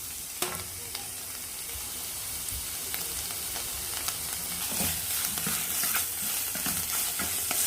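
Chicken and onions fry steadily in a pan, a dense continuous sizzle with occasional stirring scrapes and pops, close and fairly loud with no talking.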